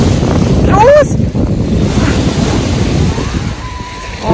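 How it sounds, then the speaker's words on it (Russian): Strong wind roars and buffets the microphone nonstop, with a faint wash of surf and a brief high call near the start. "тут холодно и очень ветрено"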